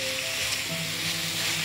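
Vegetables for a pasta dish sauté in a hot pan with a steady, close sizzle and faint stirring scrapes, continuous for the whole short stretch with no voices.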